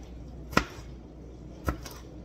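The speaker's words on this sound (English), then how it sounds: "Just cut us some red pepper strips." A knife cuts red pepper into strips, giving two sharp, close chops against a cutting board about a second apart, with near silence between them.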